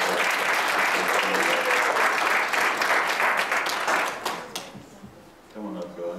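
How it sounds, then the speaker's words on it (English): A church congregation applauds during a child dedication service, broad sustained clapping that fades toward the end as a voice speaks. "Give them a big round of applause."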